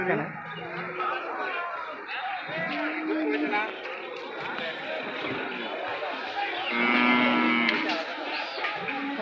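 Cattle moo repeatedly at a livestock market among a busy crowd, with many voices chattering throughout and a loud, drawn-out low call near the end.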